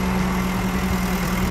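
A backhoe loader's engine runs steadily at close range, a continuous droning idle with a low rumble and faint vibration, no voices present.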